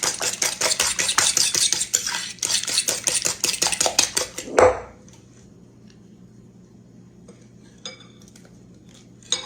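A spoon briskly stirring egg custard pie filling in a bowl, a rapid run of scraping, clinking strokes that stops with a knock, followed by a few faint taps.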